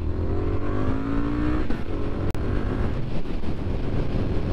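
A 2021 Triumph Street Scrambler motorcycle accelerating on the road, engine note rising steadily and loud under heavy wind rush, with a brief gear-change dip midway.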